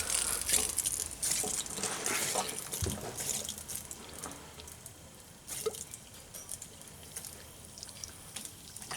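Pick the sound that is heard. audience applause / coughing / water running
water running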